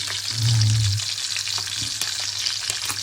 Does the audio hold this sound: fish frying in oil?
yes